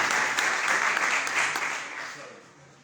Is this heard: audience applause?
yes